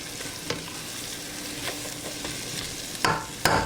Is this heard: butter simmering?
yes